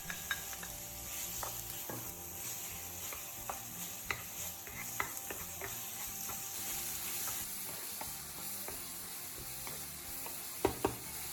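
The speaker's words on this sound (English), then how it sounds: "Add the ground beef and cook until browned." Ground beef browning in a hot oiled pan gives a steady close sizzle and fry, with scraping and stirring clicks scattered throughout and a couple of sharper knocks near the end.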